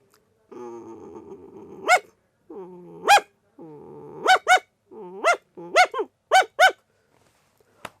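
A man imitates a dog with his voice, making low rumbling growls that break into sharp, loud barks, several in quick succession, close up and clear.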